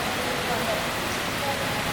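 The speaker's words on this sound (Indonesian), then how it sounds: "Kondisi hujan ya." Rain falls as a steady, even hiss, fairly loud and unbroken throughout.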